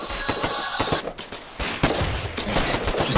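Heavy gunfire in a Foxhole war game battle, fast overlapping shots and bursts, loud and close, with a brief lull before the firing resumes.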